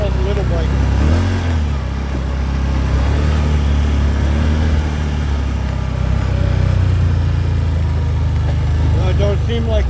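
A Can-Am 850 XT-P ATV engine drones and labors while climbing a steep trail hill, its revs rising and falling under a voice talking throughout.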